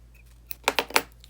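Crochet yarn is snipped with scissors at close range, a quick run of three or four crisp clicking cuts close together, with no talking.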